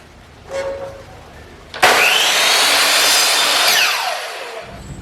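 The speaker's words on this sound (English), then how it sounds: "So I'm just using a chop saw here to make the cut" A chop saw spins up sharply and cuts through a garage door weather strip, a loud, close whine lasting a couple of seconds before winding down, with a faint tap just beforehand.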